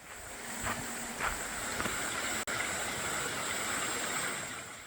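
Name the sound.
mountain valley stream flowing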